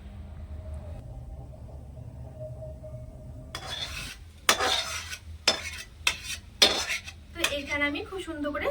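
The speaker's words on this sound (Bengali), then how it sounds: "এবার আমি এই আমের গোড়াটা গরম গরম থালার মধ্যে ঢেলে দেবো" Raw mango pulp is poured onto a hot oiled metal plate and spread around, a low hum giving way to a series of close, irregular scraping and sizzling strokes.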